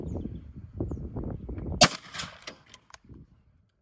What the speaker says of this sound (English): first shot here is the Rotometals number 2 bismuth, 60 yards